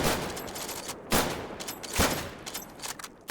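Firing-squad gunfire in a WWII court-martial roleplay video game: several loud, sharp volleys crack out at intervals, each a dense burst of overlapping shots, with quieter gunfire and noise filling the gaps between them.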